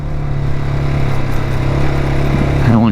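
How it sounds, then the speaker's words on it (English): A motorcycle rides off-road on a rough trail, its engine running loud and close with a steady low drone, and the pitch climbs in a rev near the end. "First time off-roading on this motorcycle."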